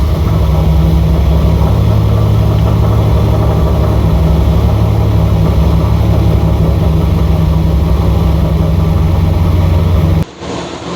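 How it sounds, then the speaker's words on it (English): A CNC LT4 V8 in a Camaro build running at a steady idle, a loud, close, even low rumble with no pauses, cut off abruptly near the end. "We're going to turn it over, build some oil pressure, and then we'll start."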